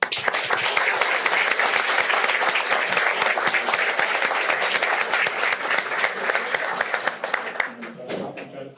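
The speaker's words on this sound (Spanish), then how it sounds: "Lo recibimos con un aplauso." An audience at a law faculty academic event applauds to welcome a speaker. The clapping is loud, dense and sustained for about eight seconds, then thins and fades out near the end.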